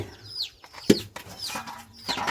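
Chickens clucking in a Thai-Lao farmyard, where the birds come to drink water: a few short, scattered clucks and calls, close and moderately loud, with a sharp knock partway through and quiet background noise.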